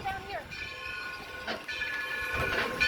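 A steam excursion train on the Black River and Western Railroad rolls past with a steady low rumble and faint rhythmic clatter, heard at a moderate distance while people chat nearby.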